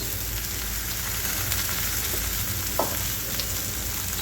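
Purslane leaves and mung dal sautéing in a pan over medium heat, a steady close sizzle and hiss running throughout with a brief soft scrape near the end.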